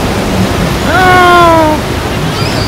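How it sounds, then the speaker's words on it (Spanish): Loud, constant wash of ocean surf at Haulover Park beach in Miami, a steady roar of breaking waves with wind on the microphone and a brief voice-like tonal sound rising over it midway. "Mira el oleaje que metió para acá la cosa esa."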